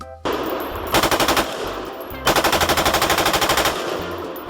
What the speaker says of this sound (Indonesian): tembak-tembakan M4